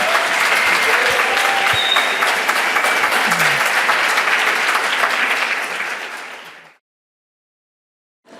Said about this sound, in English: big clap again for Sylvia Earle